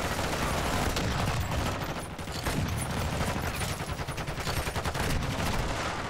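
Rapid, dense gunfire from a first-person shooter video game, loud and continuous, with overlapping shots forming an unbroken barrage.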